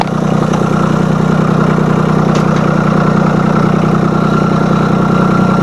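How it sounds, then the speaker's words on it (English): A John Deere tractor engine idles nearby with a steady, loud, low droning rumble and constant vibration, unchanging throughout, with no voices. "Now let's jump on the tractor and go up around the other side so I don't have to walk back."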